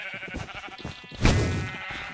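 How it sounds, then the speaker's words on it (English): Sheep in a red-versus-blue sheep quest video game bleat over a busy game background, with one loud, drawn-out bleat rising sharply in the middle and trailing off slowly. "Everyone protect the blue sheep."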